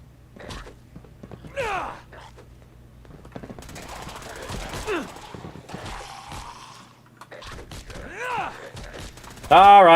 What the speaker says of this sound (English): Shoot him with the gun, McCready.